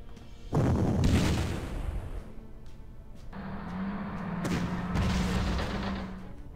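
Enemy units firing shots in the Panzer Corps strategy game: two heavy booming reports, each followed by a low rumbling tail, the second landing a few seconds after the first at moderate loudness.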